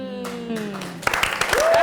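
A few sharp hand claps ring out in quick, uneven succession in a studio discussion, close and crisp, following a stretch of a speaking voice.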